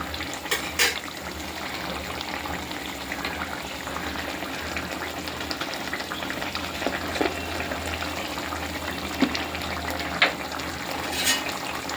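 A pot of curry with green chillies added bubbles and simmers steadily, a continuous low gurgling and fizzing with occasional louder pops, close and alone without voices.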